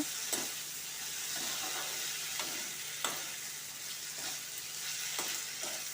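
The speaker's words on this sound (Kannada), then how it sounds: "ಹಾಕಿ ಫ್ರೈ ಮಾಡ್ಕೊಳ್ಬೇಕು ನೋಡಿ ಇದನ್ನು ಚೆನ್ನಾಗಿ ಮಿಕ್ಸ್ ಮಾಡ್ಕೊಳ್ಬೇಕು" Tomato and potato fry in a pan with a steady low sizzle, broken by regular scraping clicks as the mixture is stirred close by.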